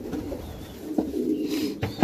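Racing pigeons held in a basket coo softly and repeatedly, with a few short louder calls and rustles standing out near the end over a low background murmur.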